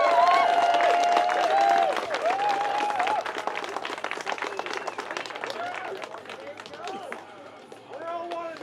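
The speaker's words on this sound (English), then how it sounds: "So give them a round of applause." A crowd claps and cheers at a pepper eating competition, a busy spread of applause that gradually thins, with someone talking loudly over it and the clapping picking back up at the end.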